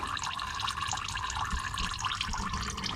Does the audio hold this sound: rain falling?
no